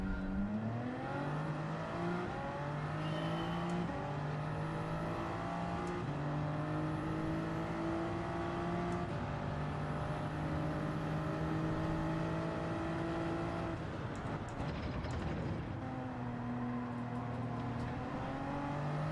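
A Nissan GT-R race car in Gran Turismo 7 accelerates hard through repeated upshifts, its engine note climbing and dropping in a steady rhythm of gear changes, loud and close with no talking.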